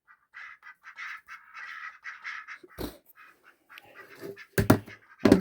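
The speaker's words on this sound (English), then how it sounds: "Here, close up on the ducks." Ducks quacking close by in a rapid, chattering run of nasal calls, joined near the end by a few louder sharp knocks and rustles.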